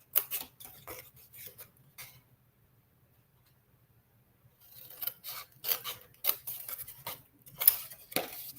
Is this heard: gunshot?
no